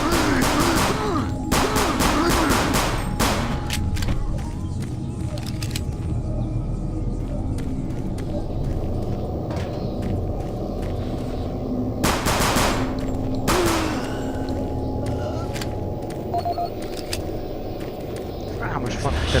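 Pistol shots in the VR game Doom 3 Lost Mission ring out as sharp bursts, a rapid cluster early on and a few louder isolated shots later, set against a constant low rumbling game ambience.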